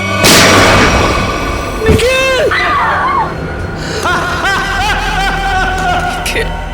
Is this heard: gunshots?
yes